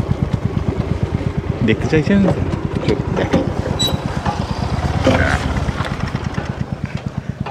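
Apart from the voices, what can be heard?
motorcycle engine idling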